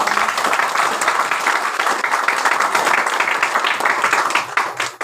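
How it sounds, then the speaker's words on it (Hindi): Loud, dense audience applause at an RCM business meeting in Prem Nagar, steady clapping from a large crowd throughout before tapering off abruptly at the end. "एक बार जोरदार ताली बजाएं"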